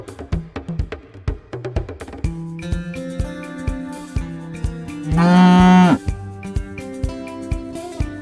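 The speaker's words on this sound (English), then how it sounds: "Cow." A cow gives one long, loud moo near the middle, set over a bouncy percussive music backing with a steady beat.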